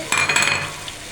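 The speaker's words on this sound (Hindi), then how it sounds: "अब हम इसके अंदर अरबी डाल लेंगे।" Taro (arbi) pieces tumble into a cooking pan for a home-style arbi and eggplant curry, a brief clatter and soft sizzle lasting under a second before fading to quiet.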